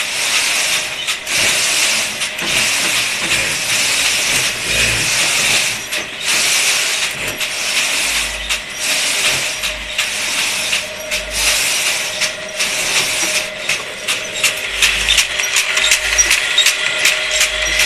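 A sewing machine stitches a woollen Nepal jacket in a workshop, running in repeated bursts with brief pauses between them, close and fairly loud, with mechanical clatter throughout.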